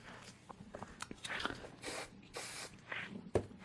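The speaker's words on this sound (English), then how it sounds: "then I'm going to spray it with mold release spray" Several short hissing sprays from an aerosol can of mold release spray, quiet and close, spaced out with brief pauses and faint handling noises between them.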